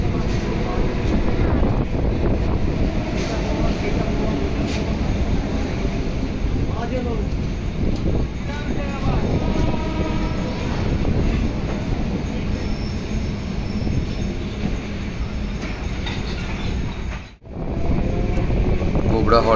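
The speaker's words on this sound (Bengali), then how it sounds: "গোবরা হল্ট থেকে আমাদের ট্রেন রওনা দিল তার পরবর্তী গন্তব্য জনাই রোডের উদ্দেশ্যে" A passenger train departs Gobra halt in Hooghly, West Bengal, with a heavy, continuous rumble of wheels on rails and occasional clatter, close and loud, briefly dropping out near the end before resuming.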